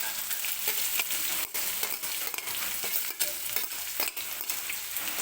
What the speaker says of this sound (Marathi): बारीक चिरून घेतलेला कांदा आहे तो टाकून घेते मी